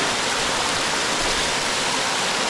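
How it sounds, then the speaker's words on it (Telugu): A waterfall at Lingala Gattu near the Srisailam dam roars close by as a loud, dense, unbroken rush of falling water, with no other sounds. "మనమైతే ఈ వాటర్ ఫాల్ దగ్గర ఉన్నాం కదా"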